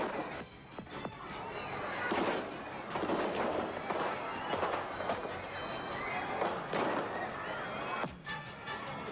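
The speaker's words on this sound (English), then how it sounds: "they opened fire with automatic weapons" Automatic weapons gunfire during an attack on a presidential reviewing stand, a dense, sustained crackle of shots over a busy crowded background, fairly distant and continuous.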